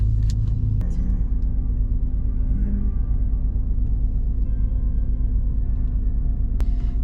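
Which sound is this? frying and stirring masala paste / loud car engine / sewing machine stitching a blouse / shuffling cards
loud car engine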